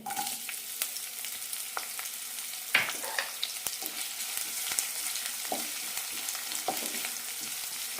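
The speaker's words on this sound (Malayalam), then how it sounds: "സവാള ചെറുതായി ചോക്കുന്നത് വരെ വഴറ്റിയെടുക്കാം" Sliced onion sautés in oil with cinnamon, cloves, cardamom and fennel in a pan for cauliflower masala curry, giving a steady close sizzle with scattered crackles and occasional spoon stirs.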